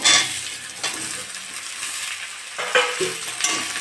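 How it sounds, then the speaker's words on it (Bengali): Sliced banana and potato frying in hot oil with browned onion, a soft crackling sizzle broken by scraping stirs and occasional metallic clinks of a spoon against the pan. "একটু ভেজে নেবো কলা আলুটা"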